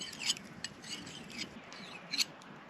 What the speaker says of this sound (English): over there sharpening his knife